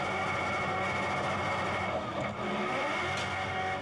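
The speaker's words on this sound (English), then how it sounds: "You hear the revs pick up." A V8 ute race car at Hampton Downs, heard onboard during a race as it loses drive. The engine drones loudly and continuously, its revs shifting upward without a break, and there is no talk.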